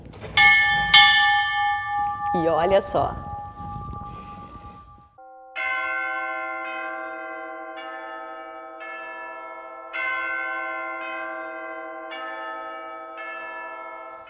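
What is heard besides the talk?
monastery door bell ringing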